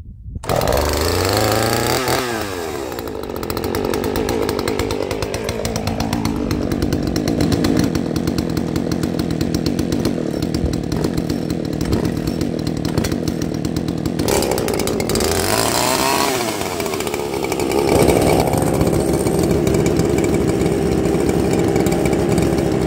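Two Poulan chainsaws, a 335 and a 5020, run loud and close outdoors after a cold start, engines droning steadily with rising and falling revs and a brief dip before climbing again, no voices over them.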